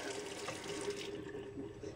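Tap water running steadily into a sink during rinsing, a continuous soft splashing stream close by with no talking.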